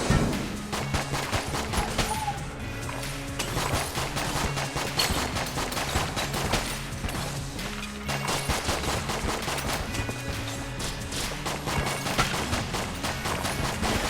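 Rapid, continuous gunfire from Enter the Gungeon, loud, dense bursts of shots repeating throughout over a busy game music bed, with no talking.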